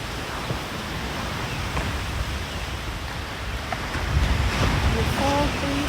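Steady wash of ocean surf at a beach on Oahu in the morning, a constant roar of breaking waves with wind buffeting the microphone.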